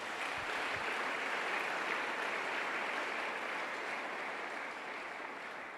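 A church congregation applauding, a steady broad wash of many hands clapping that holds evenly throughout and tapers slightly at the end, with no talking over it.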